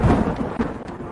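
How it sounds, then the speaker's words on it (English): A lightning spell made by combining fire and air in a video game, rendered as a deep, rolling thunder-like rumble with soft crackle, sustained and loud for about a second. "Combining fire and air makes lightning."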